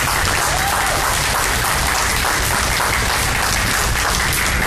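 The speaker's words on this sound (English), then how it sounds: "Let's give a big round of applause for Donna." Loud, sustained applause from a crowd at a street rally for Feras Morad, a dense unbroken roar of clapping that fills the whole stretch at steady intensity.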